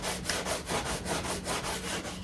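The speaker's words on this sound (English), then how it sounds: "Wow, it's fast sanding too." Hand sanding of body glaze filler on the front end of a 1969 Corvette C3, a close, rhythmic back-and-forth rasp repeating about every quarter second.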